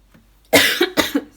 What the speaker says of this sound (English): oh yeah, cough now